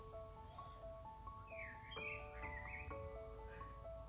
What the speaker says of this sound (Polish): Tam chyba kos śpiewa.